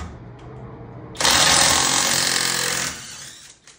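An Alloyman 1/2-inch cordless impact driver, rated at 480 foot-pounds of torque, rattles loudly as it backs off a fastener in one sustained burst of about two seconds. The hammering winds down at the end, and nobody speaks.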